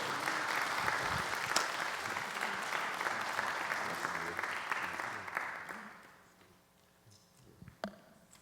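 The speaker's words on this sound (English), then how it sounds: "a round of applause" A crowd claps steadily for several seconds, then the applause fades out, leaving a quiet room with a few scattered sounds.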